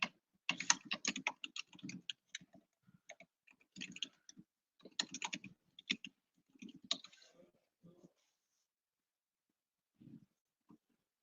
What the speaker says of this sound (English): So start typing.